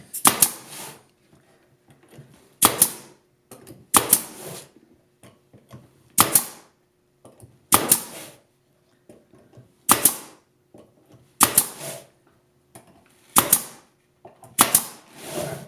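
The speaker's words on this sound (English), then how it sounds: "I'm putting a lot of pressure on this gun" A glue gun is squeezed hard while gluing segmented wood bowl pieces. It gives sharp ratcheting clicks in evenly spaced bursts about every second and a half, loud and close, with near silence between them.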